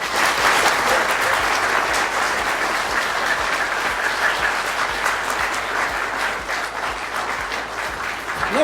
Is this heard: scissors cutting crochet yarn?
no